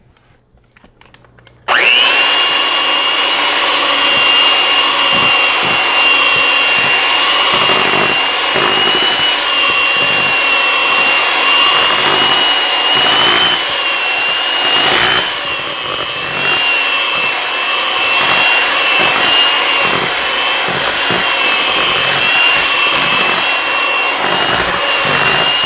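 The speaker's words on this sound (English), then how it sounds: "Going to use a mixer again, guys." An electric mixer beats cupcake frosting, starting abruptly and then running as a loud, steady, close motor whir with a high whine for more than twenty seconds, with no talking.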